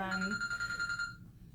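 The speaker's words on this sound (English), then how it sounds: "Oh, that's my business phone going off." Business phone ringing with a bright electronic tone, repeating close by for about a second before cutting off, with faint background murmur after.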